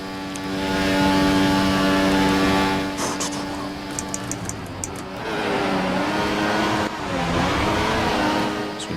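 Race car engines rev and shift through gears in a sim racing game on the Belgian GP circuit, a loud droning whine that rises and falls with the throttle, with a voice talking at the same time.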